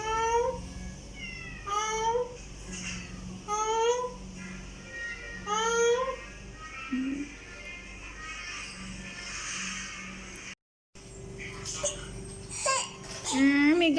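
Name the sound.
cat meowing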